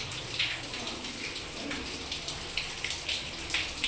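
Water drips inside the San Antonio mine tunnel at Mineral del Chico, scattered faint drops falling irregularly over a steady hollow background wash, with no speech.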